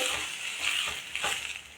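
Kootu with rock salt bubbles and simmers in a pan, a steady close hiss with soft bursts of boiling, no voices.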